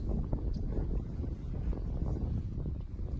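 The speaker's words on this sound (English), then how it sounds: "That wind's really blowing there, too." Wind gusts buffet the microphone on an outdoor disc golf course at a junior world championship, a steady low rumble with irregular pulses, loud and close, with no other sounds standing out.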